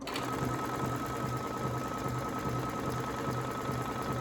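A Brother Essence VM5200 sewing machine stitching a decorative border stitch, a steady, even mechanical whir with rapid regular needle pulses, running alone and fairly quiet.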